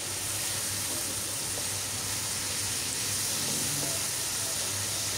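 Pumpkin pieces frying in a pan for a Bengali sweet pumpkin dish, cooked until slightly charred; a steady, soft sizzle and hiss runs throughout at low level with no talk.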